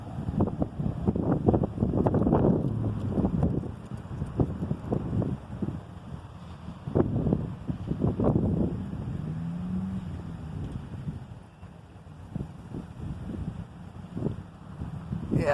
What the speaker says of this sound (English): Yeah, the wind is blowing.